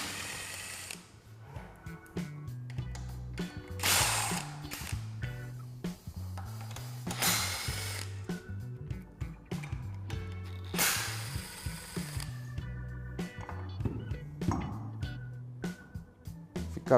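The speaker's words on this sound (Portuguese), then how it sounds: "Agora a gente vai remover o trocador de calor. São 4 parafusos com soquete 10 milímetros." A ratchet with a 10 mm socket backs out the four screws holding the heat exchanger on an automatic transmission, giving quick repeated metallic clicking in several bursts, close and fairly quiet, with no talk.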